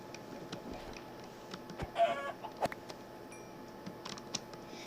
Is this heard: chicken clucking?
yes